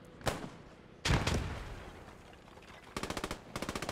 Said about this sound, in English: Can't you hear all the gunshots going on behind you?